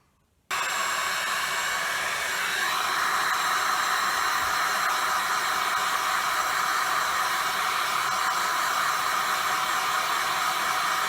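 A hot-air tool switches on and blows a loud, constant hissing rush while heating the metal gearbox casing of a Honda Zoomer scooter to fit a new bearing.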